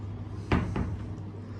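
A small cupboard door low in a hotel room cabinet is opened or closed, giving two brief wooden knocks close by against a steady room hum.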